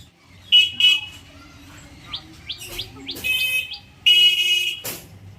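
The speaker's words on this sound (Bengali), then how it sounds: "এগুলো কি পাখি ভাই" Birds chirp and tweet in a park enclosure that also holds rabbits, with repeated bright calls in short bursts and a few louder trilling phrases, while faint traffic hums in the distance.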